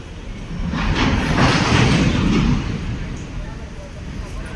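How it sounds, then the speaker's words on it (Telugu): A train rolling past close to a temple in Vijayawada, a steady rumbling roar with faint rail clatter that swells in the middle and then eases, loud and near, with voices talking over it. "పక్కనే ట్రైన్స్ కూడా వెళ్తాయి."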